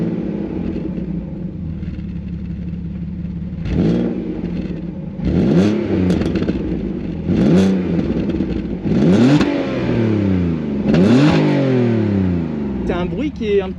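A naturally aspirated 3.2-litre V6 sedan with silencer revs in several rising blips, a metallic, raspy engine note swelling and falling close by, with people talking over parts of it.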